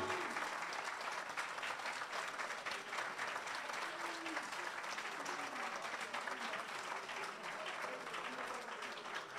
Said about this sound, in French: Applaudissements nourris pour le président Cheikh Tidiane Thiam.